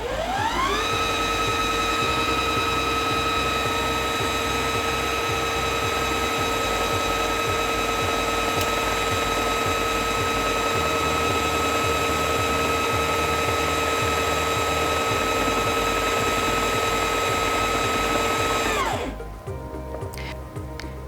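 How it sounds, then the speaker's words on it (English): A Singer Featherweight C240 sewing machine winds a bobbin with a steady, loud whirring hum that holds for nearly twenty seconds, then cuts off abruptly as winding stops. "The bobbin will stop automatically when it's full, or you can take your foot off the foot control"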